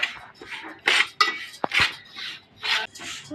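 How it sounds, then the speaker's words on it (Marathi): Sesame seeds roasting in hot ghee in a pan for tilgul laddoo, giving several bursts of crackling and popping with sharp clicks, close and moderately loud, no talking. "तीळमध्ये आता फटफट फटफट आवाज आता समजायचं तीळ आपले भाजले गेले"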